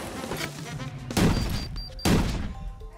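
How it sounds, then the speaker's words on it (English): Two heavy cannon blasts boom out in the video game Ultimate Chicken Horse, a second apart, each a loud sudden burst that rings on briefly over a busy background of game noise. "that's a lot of cannon going on here"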